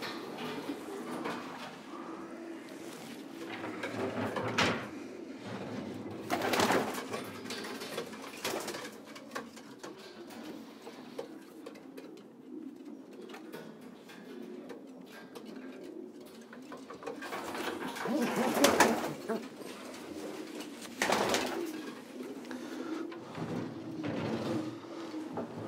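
Racing pigeons coo inside a loft at a top Belgian fancier's. Soft, low, repeated coos are punctuated by a few sharp knocks and clatters from the loft.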